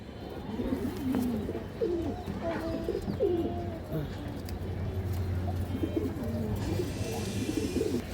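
Several paired pigeons, including a big-sized Army pair, coo repeatedly in low throaty bursts at a pigeon seller's, with someone talking throughout over steady background noise.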